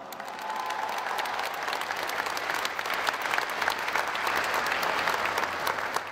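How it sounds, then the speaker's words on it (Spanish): Audience at a municipal event in General Zuazua, Nuevo León, claps steadily for about six seconds, a dense, even wash of many hands at moderate distance, with no voices over it. "quiero que me acompañen con un fuerte aplauso"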